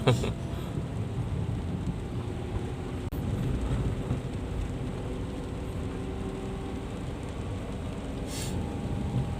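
Steady rain hisses throughout with a low rumbling hum underneath, no talking.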